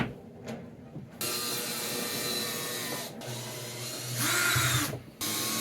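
A power drill drives screws into wood in a salon, its motor whirring in long, loud, sustained bursts separated by brief pauses.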